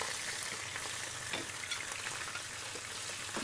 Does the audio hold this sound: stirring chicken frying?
yes